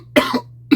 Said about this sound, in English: Sorry for the coughs and shit.